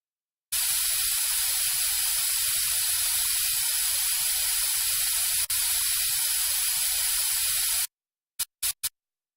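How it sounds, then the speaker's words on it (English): Dental air sprayer in a brace surgery video game hissing steadily onto the teeth, one loud continuous blast lasting about seven seconds, followed by three short quick puffs. "Let's spray some air to get the teeth nice and dry."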